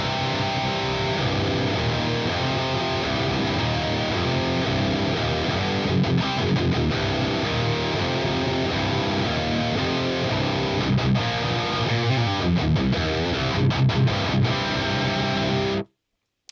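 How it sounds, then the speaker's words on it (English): High-gain electric guitar through an Axe-Fx III recording preset, a dense, saturated wall of distorted riffing with brief chugging stops, loud and continuous before cutting off abruptly. "Let's have a listen to how the preset sounds at the moment"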